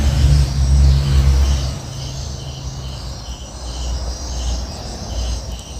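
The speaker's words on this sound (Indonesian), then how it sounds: "Kemudian kita mixer dengan kecepatan rendah dulu ya." An electric mixer runs at low speed through eggs and 400 grams of sugar for a zebra sponge cake batter. A low, heavy whir fades after a moment into a steady, softer motor hum with faint high chirping behind it.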